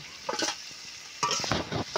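Fried cauliflower and beans stirred in hot oil in a pan for a prawn curry, two short bursts of close spoon scraping over a light sizzle.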